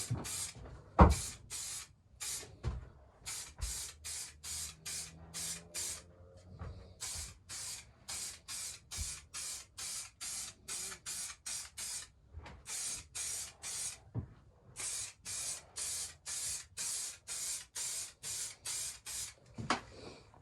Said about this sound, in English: So just a quick spray over for its first coat